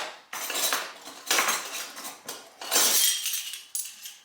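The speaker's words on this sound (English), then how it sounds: "teaspoon of mustard" A spoon adds a teaspoon of mustard to a bowl of mayonnaise, making several bursts of close, bright scraping and clinking against the bowl with short pauses between them.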